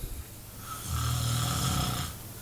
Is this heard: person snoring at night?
yes